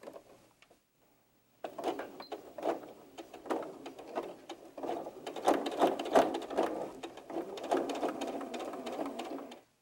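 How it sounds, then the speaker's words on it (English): A sewing machine top stitching the strap of a small 18-inch doll sandal, starting after a brief quiet stretch with irregular bursts of close, rapid stitching chatter and short pauses between runs. "we'll start again by top stitching from here to here"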